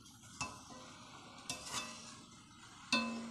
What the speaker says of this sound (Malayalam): ഇത് നമുക്കൊന്ന് ഇളക്കി കൊടുക്കാം. പതുക്കെ ഇളക്കണം, മീൻ പൊടിയരുത്.